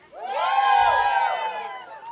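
An audience at a live comedy event screams and cheers together, a loud burst of many high voices that swells and then tapers off over about two seconds.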